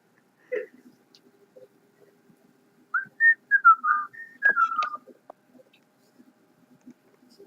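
A person whistles in short, bird-like chirps and warbling trills at close range, a few scattered notes at first and then a brief run of rising and falling phrases in an otherwise quiet room.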